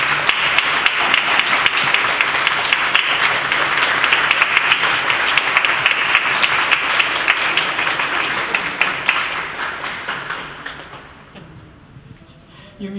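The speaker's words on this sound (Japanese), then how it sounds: "皆さん拍手してあげてください。" A theatre audience at a post-performance talk applauds the actors, with dense sustained clapping that fades out over the last few seconds.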